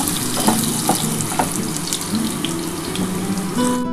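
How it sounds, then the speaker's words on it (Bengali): Potato pieces fry in a pan for a mixed-vegetable chachchari, giving a close, continuous watery hiss and crackle with faint clinks. The sound runs steadily throughout, with no talking. "আলুটা একটু লাল করে ভাজা হলে তারপর আমি কুমড়ো"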